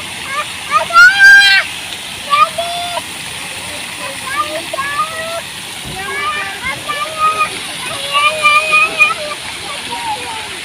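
Splashing water at a waterfall in a garden park, a steady rushing wash heard beneath excited voices of several people talking throughout.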